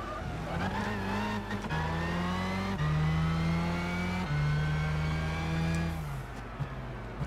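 Race car engine in Gran Turismo 6, a roughly 994-horsepower machine, revving hard and climbing through several gear shifts, each one dropping the pitch before it rises again. The engine is loud and steady throughout, with no talk over it.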